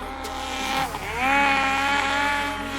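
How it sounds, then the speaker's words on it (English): A turbocharged race car at high elevation drones steadily, then its engine pitch dips and climbs again as it passes, moderately loud at mid distance with no talking. "Hear the turbo just running like a bag of crap at this elevation."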